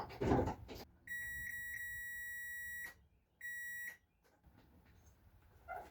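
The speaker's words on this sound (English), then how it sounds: "This thing should beep if it has signal sent to it." A steady electronic tone beeps loudly for almost two seconds, falls silent, then sounds again for about half a second, close and clear.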